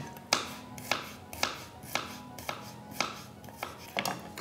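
An onion being chopped with a knife on a cutting board, about ten crisp, evenly spaced cuts at a steady moderate rhythm, close and clear.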